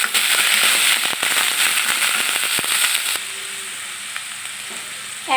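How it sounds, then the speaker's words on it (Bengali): Beef khichuri spices sizzle and crackle loudly in a hot pan, a dense frying hiss with sharp pops and stirring scrapes, settling into a softer steady sizzle. "সবগুলো আমি একসাথে দিয়ে মশলাটাকে কষিয়ে নেব যাতে হলুদের গন্ধ না করতে যায়"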